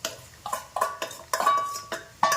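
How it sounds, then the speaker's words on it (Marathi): A metal spoon scrapes and clinks against a pan while masala is stirred with onions for stuffed brinjal, about eight distinct close, sharp strokes in an irregular rhythm with no talking. "तो देखील 1 ते 2 मिनिटं परतून घ्यायचा आहे चांगला कांद्यासोबत"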